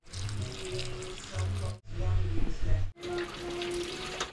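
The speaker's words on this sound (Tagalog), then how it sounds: "Nabandian muna natin ng tubig na mainit yung pako." Hot water pours and splashes over fern greens close by in three bursts with short breaks between, with a low hum and some background noise.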